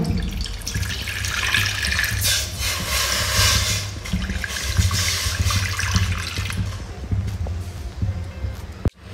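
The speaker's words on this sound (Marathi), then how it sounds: "व आपण 1 ग्लास पाणी टाकून घेऊ." A glass of water is poured into a wok holding a steaming stand, set up to steam alu vadi taro-leaf rolls, making a loud, continuous splashing gush that tapers off near the end.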